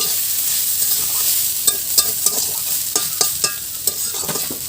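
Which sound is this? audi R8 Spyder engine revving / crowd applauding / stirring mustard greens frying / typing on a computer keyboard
stirring mustard greens frying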